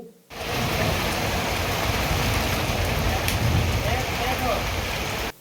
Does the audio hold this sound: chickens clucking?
no